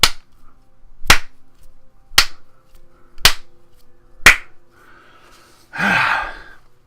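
One person claps five slow, evenly spaced, sharp claps about a second apart, mimicking a lukewarm Oscars audience, and the sequence ends with a breathy exhale.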